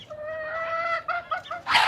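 Indigenous country hens, drowsy and sick from cold and rain, give a short run of soft, close clucks and tonal calls, ending in a brief rustle.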